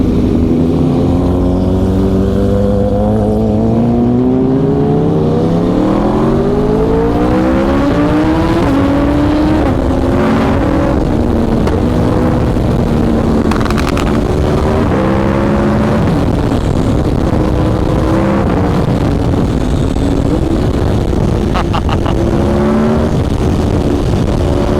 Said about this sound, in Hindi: कोई भी गियर में आप खींचो बाइक फुल कर देती है